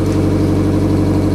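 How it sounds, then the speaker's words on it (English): A Mazda Miata engine running just after starting with a new exhaust pipe fitted, a steady low idle rumble with an even pulse, close and fairly loud, with no talking. "we're about to start the car up with that pipe"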